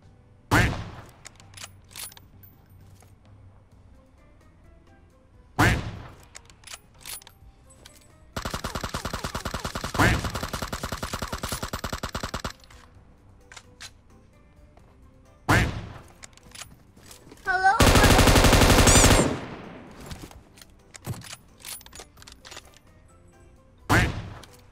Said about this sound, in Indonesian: Ada yang nembak ke kanan juga.